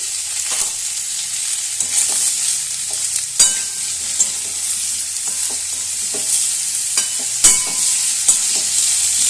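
A vegetarian vegetable curry with sugar and turmeric is stirred and mixed in a pan, with a steady sizzle of frying under scattered spoon scrapes and a couple of sharper knocks, close and loud with no talking.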